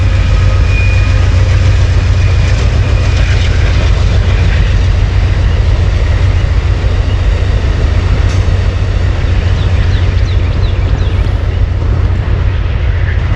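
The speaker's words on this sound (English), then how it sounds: "Looks like a passenger train, Amtrak." An Amtrak passenger train passes close by along the C&O Canal, a loud continuous rumble and roar of rail cars that holds steady throughout, with no talking.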